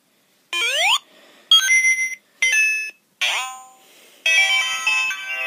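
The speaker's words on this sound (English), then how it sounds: "Does Sonic the Hedgehog make sounds when you press him right here?" A Sonic the Hedgehog plush doll plays electronic sound effects and jingles when pressed: five bright, tonal, game-like bursts separated by short silences, loud and close, with sweeping and chiming tones and no talking.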